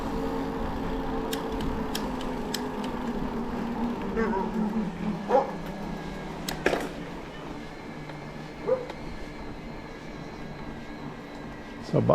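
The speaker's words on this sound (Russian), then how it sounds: "Собака гавкает." A dog barks a few times in the distance along a road near Yalta in Crimea, with sharp scattered yelps over steady outdoor background noise and no clear voices nearby.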